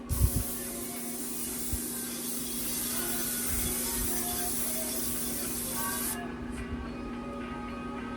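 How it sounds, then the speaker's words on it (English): Pam non-stick cooking spray hisses steadily from an aerosol can for about six seconds, a loud continuous spray that cuts off abruptly, with a low hum and faint music underneath. "I'm going to spray them both down with some of that Pam non-stick."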